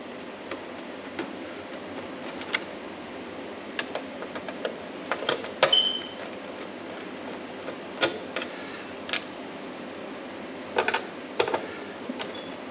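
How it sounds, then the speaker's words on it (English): Small screws being backed out of a Waveform Quad 4x4 MIMO panel antenna, heard as sparse, quiet clicks and ticks at irregular intervals over a faint background hum. "So I get all these screws out of here."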